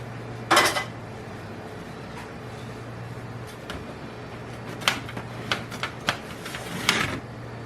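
A springform cake pan is unlatched and its metal ring lifted off, giving a few sharp clicks and scraping clinks spread out, with a faint steady hum underneath.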